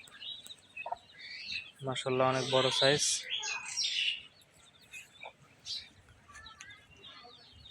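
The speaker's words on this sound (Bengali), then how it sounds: "এই যে দেখুন আমার আর একটা মুরগি, যে ছোট ছোট বাচ্চাগুলা" A hen with five small chicks: a short burst of loud clucking near the middle, with high, thin chirps scattered before and after, while a person talks nearby.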